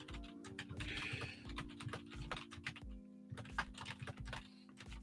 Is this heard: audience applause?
no